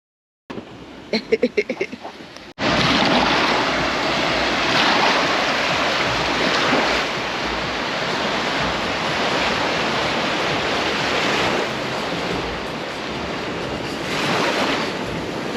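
Ocean waves breaking at a beach in Tulum, a steady broad wash of surf with wind rush across the microphone, continuous and fairly loud after a brief quieter opening.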